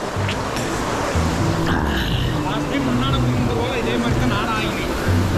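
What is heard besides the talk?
small waterfall and natural pool water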